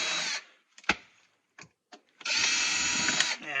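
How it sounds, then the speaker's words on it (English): A power drill backing screws out of an old TV tuner: a short whir, a few clicks and taps, then a longer steady motor whine, close and loud. "Take the screws out because there's so many screws in here."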